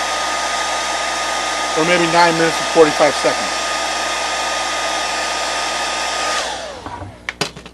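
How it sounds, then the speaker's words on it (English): A hair dryer blows steadily over glued felt and fleece for a sock puppet, a loud continuous whoosh with someone talking briefly over it before it switches off and winds down. "Again, I'm going to take my hair dryer."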